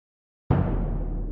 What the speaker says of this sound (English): I'm switching between these two bass drums, one that sounds like this